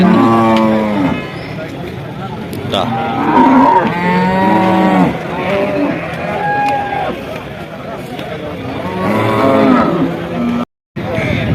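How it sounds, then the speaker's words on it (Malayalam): Cows and calves moo repeatedly at a busy cattle market, with several close, drawn-out calls rising over a steady murmur of crowd chatter and talking. "നല്ല പശുക്കളുണ്ട് പശുക്കന്നുകളുണ്ട്"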